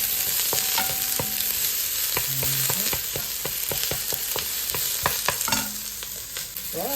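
Chicken pieces for a chicken curry fry in a hot pan, with a steady loud sizzle broken by repeated scraping and stirring clatters from a utensil.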